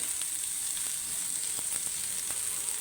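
Bitter gourd pieces sizzle steadily in hot oil in a pan, a dense continuous frying hiss with faint crackles scattered through it and no talking.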